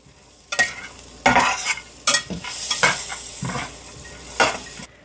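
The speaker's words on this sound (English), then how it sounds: "Keep stirring them until they get toasted." Almonds toast in a hot pan while a spoon stirs them in uneven bursts, scraping and rattling over a soft sizzle, with short pauses between strokes.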